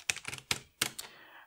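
A laptop keyboard is typed on, several close, crisp key clicks in quick irregular bursts, ending in a short faint tail.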